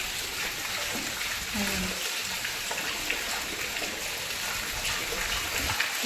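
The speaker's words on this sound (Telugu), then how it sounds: "నీళ్ళు మెట్లు మీద నుంచి డాబా నిండిపోయి మెట్ల మీద నుంచి కింద పడుతున్నాయి" Heavy rainwater overflowing a flooded terrace rushes and gushes steadily down the stairs, a constant broadband pour heard at moderate distance with talk over it.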